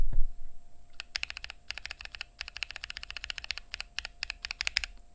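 Gateron Slate linear keyboard switches typed in quick bursts of crisp, light clacks, dense clustered keystrokes with short pauses, close and clear with no voices.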